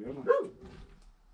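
A dog barks once or twice at mid distance around a large, run-down half of a house in the US, with a short voice-like sound mixed in.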